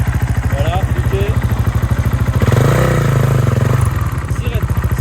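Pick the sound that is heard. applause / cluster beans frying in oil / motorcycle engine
motorcycle engine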